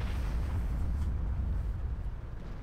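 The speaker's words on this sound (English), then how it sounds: "I decided to just shoot the back wheel to track him. I'm using HE ammo though." A heavy low boom from a tank firing a high-explosive shell in World of Tanks, a single loud deep blast with a rumbling tail that fades slowly, no voices.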